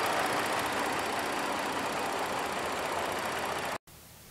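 A Ford Taurus 3.5 liter V6 engine idles with a steady, even hum continuously at close range, then cuts off abruptly near the end, leaving faint background noise.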